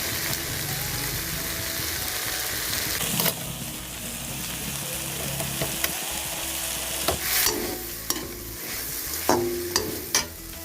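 Cumin, ginger and garlic sizzle and fry in a pan for a boiled chicken curry, stirred with a utensil that scrapes and clacks at intervals over a steady close frying hiss, with no talk.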